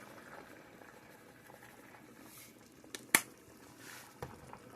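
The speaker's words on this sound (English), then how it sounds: "you want your taters at a rolling boil before you start the 15 minutes" Salted water with potatoes at a rolling boil, bubbling quietly and steadily, with a couple of sharper pops standing out near the end.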